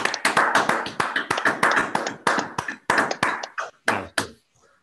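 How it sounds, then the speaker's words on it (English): Online topology seminar participants clap together on cue, a brisk run of separate hand claps close to the microphone in uneven bursts, slowing and thinning out before stopping. "Okay, now let's really clap."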